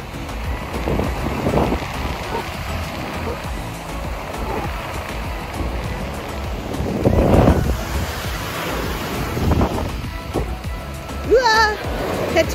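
Ocean surf rolling onto Miami Beach, a steady wash of breaking waves with wind buffeting the microphone, brief louder surges, and faint voices and a high chirp near the end.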